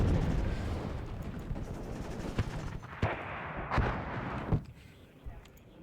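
Gunfire and shooting in the strategy game WARNO, heard as a steady rumble of battle with several sharp, separate shot reports standing out, spaced about a second apart.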